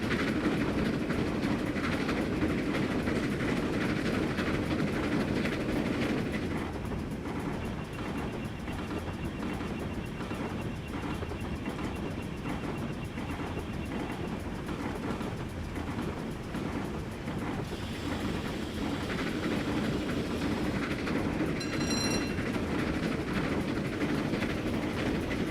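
A train in Train Simulator 2015 runs through a long tunnel with a steady, loud, close rumble and a continuous clickety-clack of wheels on rail joints for the whole stretch, with no talking.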